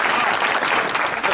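A village crowd at a political speech in Begusarai breaks into dense, continuous clapping, fairly loud and sustained with no pauses.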